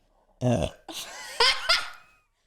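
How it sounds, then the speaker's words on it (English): A person forces out a burp amid bursts of laughter, with several loud close voiced pulses over about two seconds. "Wait, I need a burp."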